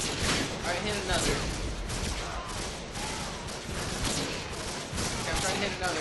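Gunfire in a first-person shooter match on a scrapyard map: dense, continuous volleys of shots and impacts fill the whole stretch, with a player's commentary talking over the action.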